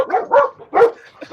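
Dogs bark in short bursts, three or four close, loud barks with brief gaps between them, no talking.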